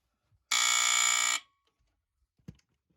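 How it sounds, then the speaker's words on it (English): A single loud buzzing blast from the mechanical horn of a Firex FXW-1 second-generation smoke alarm lasting about a second, followed by near silence and a faint click. "You hear the ping of the mechanical horn as well."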